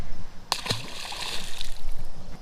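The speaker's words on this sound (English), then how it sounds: "I'm gonna have to drop this guy back in the water." A pike released by hand drops back into the water with a single short splash, followed by faint sloshing and dripping, close by and outdoors.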